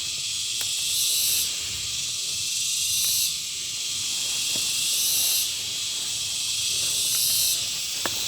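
Insects trill in a Cavite forest, a dense, steady high-pitched hiss with louder cricket swells rising and falling every couple of seconds, close and continuous, with no voices.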